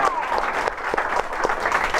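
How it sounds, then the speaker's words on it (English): A rally audience applauds firefighters with a brief burst of crowd clapping and cheering, loud and dense throughout, with voices mixed in. "Can we give our firefighters a huge round of applause"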